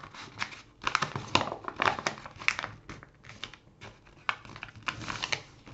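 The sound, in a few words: paper being folded for a junk journal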